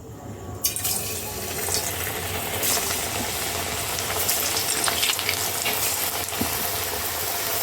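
Sweet potato filling frying in hot oil, a steady, dense sizzle with watery crackle that runs close and loud from start to finish, with no voices.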